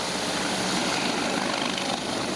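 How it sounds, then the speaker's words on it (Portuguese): A helicopter in flight carrying a patient transferred to a hospital in the state capital, Fortaleza, Brazil, a steady loud rotor and engine roar with no pauses and no talk over it. "foi transferido de helicóptero para a capital"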